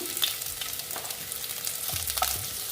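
Ginger hits hot oil in a pan for paneer butter masala, giving a steady close sizzle and fry with a few stirring scrapes, no voices.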